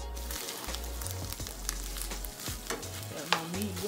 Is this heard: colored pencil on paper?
no